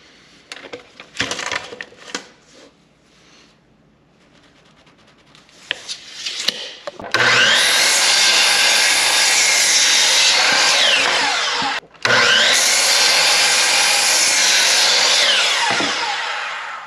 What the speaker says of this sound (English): So we'll cut these at 43. I'll use my little circular saw